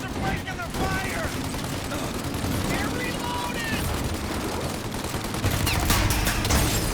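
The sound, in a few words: gunfire in the video game Mafia: Definitive Edition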